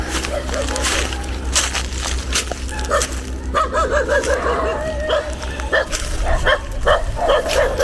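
Several dogs bark and yip on a hike up Mount Balagbag, Rodriguez, Rizal, in a rapid, overlapping series at moderate distance, with a steady low hum underneath.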